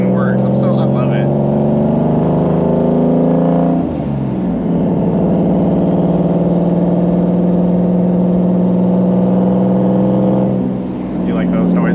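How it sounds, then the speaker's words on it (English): A Subaru WRX STI with an H6 engine hums steadily up close, a dense, even drone that holds for several seconds. The pitch dips briefly partway through and recovers, with no speech over it. "The turbo noises? The twirly noises."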